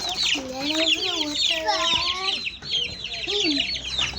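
Small chicks and grown chickens cluck and peep continuously at a home backyard coop, a dense chorus of overlapping calls and chirps at close range with no pauses.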